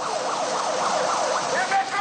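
Factory sirens wail at the ArcelorMittal Florange steelworks during a workers' protest, a rising and falling electronic tone repeating steadily over a continuous background hum.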